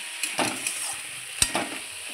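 Mixed vegetables coated in spices stirred in a frying pan for a Bengali vegetarian dish, with a soft sizzle under a few scraping stirs and one sharp clink of the utensil, close and fairly quiet.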